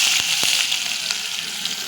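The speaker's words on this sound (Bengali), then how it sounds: "পেঁয়াজগুলো দিয়ে দেবো।" Onions hit hot oil already crackling with whole garam masala, chilli and cumin seeds, producing a loud, steady frying hiss close by with a few sharp pops near the start.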